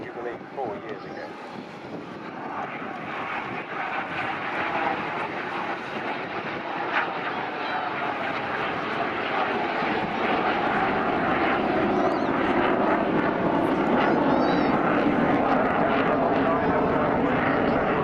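BAC Strikemaster jet trainer flying at the Air Waves Portrush 2015 air show, a broad engine roar that swells gradually louder over eighteen seconds as it approaches, with wind buffeting and a commentator talking over it.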